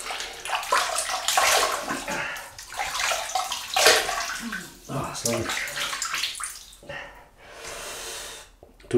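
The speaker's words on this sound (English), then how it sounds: "So I'm going to wet the face." Tap water running into a basin while a man splashes his face before shaving, with gushing water, wet splashes and snorting breaths in irregular bursts, close and fairly loud.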